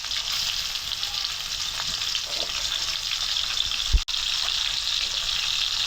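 A small hilsa fish sizzling and frying steadily in a pan, a continuous close hiss with faint stirring scrapes and one brief soft knock near the end, no voices.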